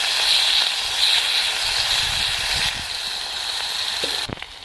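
Onion paste sizzles in hot oil spiced with garam masala and a bay leaf: a steady frying hiss, fairly close, with a few clinks of a utensil near the end.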